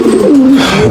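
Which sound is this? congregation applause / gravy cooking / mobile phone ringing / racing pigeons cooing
racing pigeons cooing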